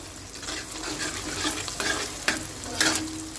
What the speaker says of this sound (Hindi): प्याज हमने डाल के हमने अच्छी तरह मिक्स कर लिए हैं।